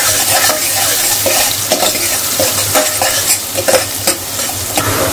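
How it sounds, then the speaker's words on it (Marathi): Chopped onion frying in hot oil for shevla bhaji, a loud steady sizzle with repeated scraping stirs and spoon clinks against the pan, close up and without talk. "कांद्याला चांगला फ्राय करून घेऊया"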